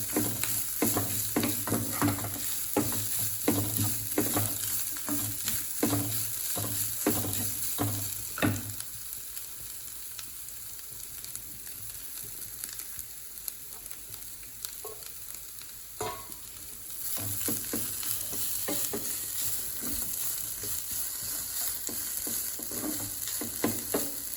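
Continuous sizzling as grated coconut roasts in a hot pan, with repeated scraping and stirring strokes, a quieter stretch midway before the stirring picks up again; no talking.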